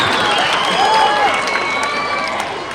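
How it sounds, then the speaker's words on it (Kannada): A crowd of children at a public event in Ballari clapping together, a dense, steady patter of applause with some cheering mixed in, loud and sustained throughout before easing slightly at the end. "ನಿಮಗೆ ನೀವೇ ಒಂದು ಚಪ್ಪಾಳೆ ಹೊಡ್ಕೊಳ್ಳಿ"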